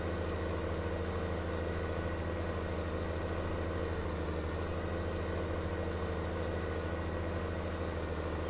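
Tractor engine idling in the Farming Simulator 19 video game, a steady low mechanical drone that holds an even level throughout, with no talking.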